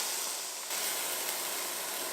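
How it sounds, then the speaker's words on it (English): Pork chops sear in a hot skillet with a steady, close, broadband sizzle that holds without a break for about two seconds. "that's the sound you want to hear when you put your chops on your skillet"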